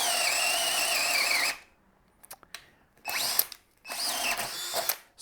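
A Harbor Freight Hercules drill bores with a 3/4 inch spade bit, a loud, high motor whine that runs steadily, stops, then returns in short stuttering bursts and two longer pulls, up close.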